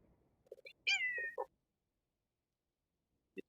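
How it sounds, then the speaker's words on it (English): A cat meows close by: a couple of short soft chirps, then one drawn-out rising-and-falling meow, followed by silence and a brief faint chirp at the end. "Hello there, kitty cat."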